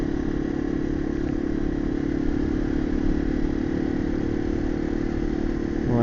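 Steady wind roar from riding a Yamaha TW200 motorcycle through local Utah streets, a constant rushing blast with the single-cylinder engine droning underneath, close and unbroken throughout, no voices.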